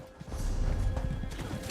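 Rhythmic clip-clop of horse hooves trotting steadily in a video game, close and fairly loud, over a low rumbling game background.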